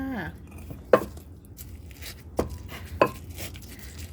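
Tomatoes dropped and pounded into a Korean cucumber salad in a mortar, giving three sharp wet thuds spaced apart, with faint kitchen clatter between them and no talking.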